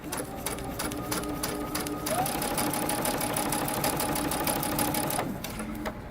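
Sewing machine running a steady, continuous stitch along a dress seam, loud and close with a whirring motor and fast needle rhythm, pausing briefly near the end.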